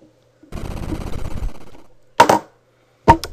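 Explosion sound effects from the NES game Kirby's Adventure: a sustained crackling rumble followed by two short sharp blasts, loud and clean, with no talking.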